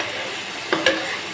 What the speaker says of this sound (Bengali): চিংড়ি মাছটা পেঁয়াজ রসুনের সঙ্গে একটু ভেজে নেব।